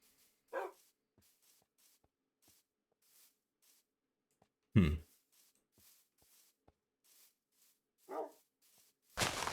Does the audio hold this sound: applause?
no